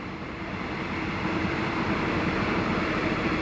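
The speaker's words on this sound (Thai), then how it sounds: "มีขบวนรถไฟกำลังจะมานะครับ เป็นขบวนรถไฟเข้ากรุงเทพนะครับ" A passenger train bound for Bangkok passes through rural farmland, making a continuous broad roar and rumble that holds steady and slowly grows a little louder, with no voices over it.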